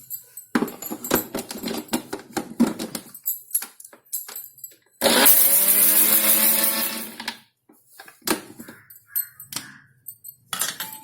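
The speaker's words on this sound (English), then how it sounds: "you can add a little bit of hing also, approximately around 1 teaspoon in the mixie" A mixie grinder powders spices with a spoonful of hing for mango pickle: a loud, steady whirring grind of a couple of seconds that winds down, framed by clinks and handling noises before and after.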